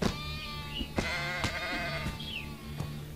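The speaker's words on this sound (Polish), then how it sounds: "Mamy owce." Sheep bleating in the block-building video game SkySaga, a few short wavering bleats over a steady game background tone, moderately near and alone without talk.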